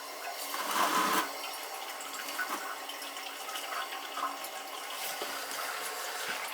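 A poorly running Mansfield toilet refills with a steady hiss and rush of water through a worn fill valve, continuous and close, with a brief louder surge near the start.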